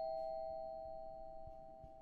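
Doorbell in the horror game Fears To Fathom, a single sustained electronic tone ringing steadily and slowly fading, with a few soft thumps underneath.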